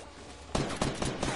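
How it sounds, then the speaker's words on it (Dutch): A quick burst of several sharp video game gunshots in rapid succession, loud against a low background hum. "Oh, ik hoor schoten."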